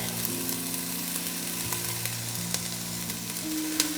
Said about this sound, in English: Just like to get the nooch a little toasted and all of the other seasonings just toasted a little bit just to enhance their flavors